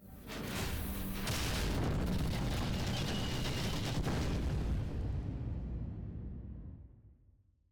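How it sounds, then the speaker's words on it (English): A heavy, booming burst of gunfire rolls out loud and close, then its echo slowly fades away over several seconds. "The calm of the night was shattered by the sounds of gunfire."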